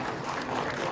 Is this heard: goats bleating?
no